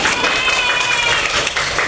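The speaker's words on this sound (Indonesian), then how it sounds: "Beri dulu tepuk tangan sama Kaisya dan Auli" Classmates in a school classroom give a round of applause for two pupils, Kaisya and Auli: a short, steady wash of many hands clapping with children's voices mixed in.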